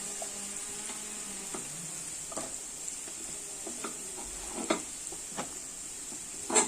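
Sliced onions sauté in about two tablespoons of hot oil for a chicken roast, a steady close sizzle with scattered ticks and scrapes of stirring, no voices.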